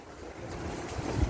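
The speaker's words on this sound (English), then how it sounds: "There's wind, and they gotta stack it in. Got a little bit of wind." Wind blows outdoors as a soft, steady rush of low rumbling noise that swells slightly near the end, with no voices.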